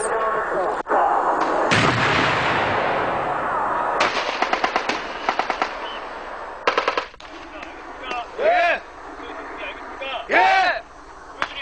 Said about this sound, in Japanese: 本物の銃声が飛び交うそのあまりの恐怖に動けなくなる訓練兵もいるといいます。